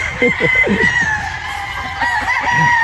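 Chickens on a farm of about twenty birds, with a rooster crowing in a long drawn-out call over steady clucking, all close and loud from start to end.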